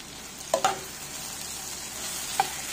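Potatoes frying in oil in a pan for a dry aloo bhujia give a steady soft sizzle, with a few distinct spoon scrapes as the pan is stirred, close up and without talk.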